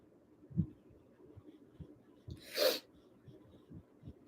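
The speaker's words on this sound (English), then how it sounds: "I might sneeze." One sharp sneeze bursts out midway, set against quiet breathing and faint soft taps.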